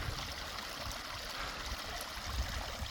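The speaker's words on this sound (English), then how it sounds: "We're back to more running water." A snowy creek runs in a soft, continuous rush, faint and steady with a low gurgling wash.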